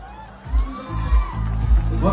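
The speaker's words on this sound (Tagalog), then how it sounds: "Pumalakpak kung naniniwala kayo doon" Rally crowd at Old Tagbilaran Airport cheering and shouting with bursts of clapping, a loud outdoor mass of voices swelling in waves, with deep thumping booms underneath.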